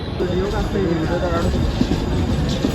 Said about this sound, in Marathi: 8:41ची खोपोली लागले ट्रेन.